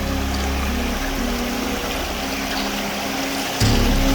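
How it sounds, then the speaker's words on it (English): A small stream in Alaskan bear country flows steadily, a continuous close watery rush with no talk, the sound jumping a little louder near the end. "So this is perfect little stream for any surrounding bears around us."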